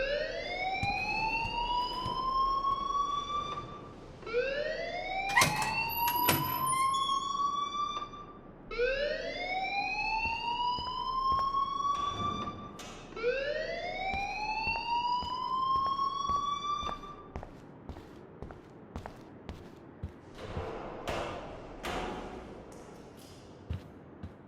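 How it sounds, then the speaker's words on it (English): A fire alarm in the video game Life Is Strange wails in four rising, siren-like sweeps that repeat at a steady pace, then stops, leaving a few faint clicks and knocks. "please turn off that alarm since that's your job"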